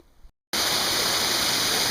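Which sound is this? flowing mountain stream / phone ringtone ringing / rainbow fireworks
flowing mountain stream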